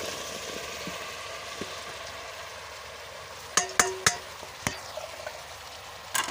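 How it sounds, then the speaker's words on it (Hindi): Okra goes into a pan of cooked-down tomatoes, giving a faint, soft sizzle. A run of sharp spoon clinks and scrapes against the pan follows in the second half. "अभी डालेंगे भिंडियाँ, थोड़ा गल गए हैं।"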